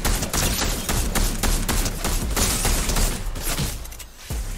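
Shotgun and other weapon fire in a Fortnite tournament match comes as a dense, loud barrage of rapid shots and blasts, almost continuous for several seconds before briefly easing, then a final sharp shot.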